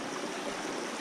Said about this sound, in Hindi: यहाँ पे जो झरने नुमा जो यहाँ से कलकल करती ध्वनि आपको सुनाई दे रही है